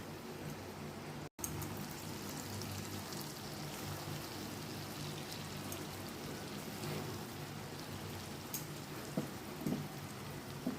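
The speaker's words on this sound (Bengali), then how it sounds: "এবার সাদা তেলের মধ্যে আমি ভেজে নিচ্ছি।" Paneer kofta balls frying in white oil over a low gas flame, a continuous soft crackling sizzle that stays even and fairly quiet throughout with no talk.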